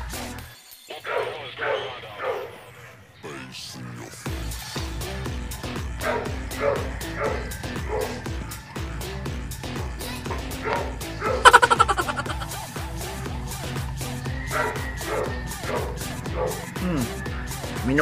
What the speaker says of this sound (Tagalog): nakita ko yung chow-chow na gano'n, inaano nung kinukulit nung askal na aso